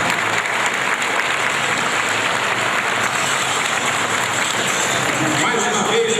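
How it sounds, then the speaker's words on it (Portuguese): Dense, steady applause from an audience at a fire brigade anniversary ceremony in Rio de Janeiro, cheering a team of young firefighters; continuous loud clapping with crowd noise, sustained evenly for several seconds. "Aplausos para esses jovens valorosos"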